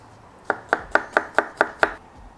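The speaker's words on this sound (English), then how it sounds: "So there's a couple ways you can cut garlic." A knife chops garlic on a cutting board in seven crisp, evenly spaced strokes, close up and clear with no talking.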